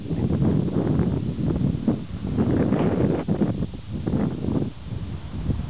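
Strong gusty wind buffets a camera microphone outdoors in winter, a continuous loud rumbling roar that swells and dips without pause.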